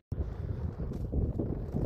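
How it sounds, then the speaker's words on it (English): Gusty wind buffets the microphone outdoors at the start of a newly paved walking trail on a cold day, a steady low rumble with no talking. "It's windy, and it's a little cold."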